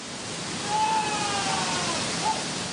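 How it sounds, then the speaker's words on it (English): Waterfall pouring in cold, near-freezing conditions, a steady broadband rushing roar that swells slightly midway, with faint tonal whistles over the wash. "The great leap forward was to quit meditating by the waterfall and get under it."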